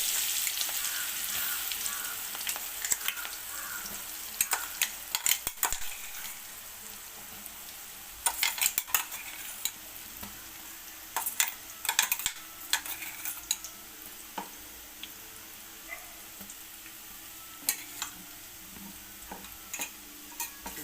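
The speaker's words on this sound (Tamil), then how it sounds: "முதல்ல அந்த அரைச்சி வச்ச விழுதெல்லாம் போட்டுடலாம்" Ground herbal paste fries in hot oil for a hair-growth preparation, a steady close sizzle broken by frequent clinks and scrapes of a spoon stirring against the pan, with no talking.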